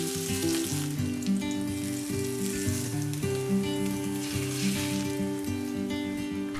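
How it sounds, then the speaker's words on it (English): Minced chicken kebabs sizzle and crackle steadily in hot oil in a pan over medium flame, close up and continuous, with no voices. "Then add the kebabs one at a time and fry on medium flame."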